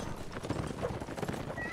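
A horse's hooves clop at a slow pace in Mount & Blade: Warband, a short run of muffled rhythmic thuds heard close without speech.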